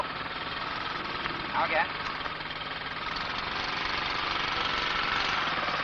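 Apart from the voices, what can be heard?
training motorcycle engine running as learner rides under power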